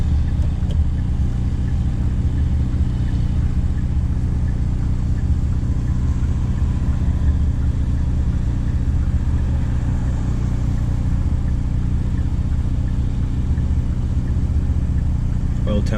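A Hyundai Veloster N driving under boost, its engine producing a steady low drone with road noise, heard from inside the cabin at constant loudness.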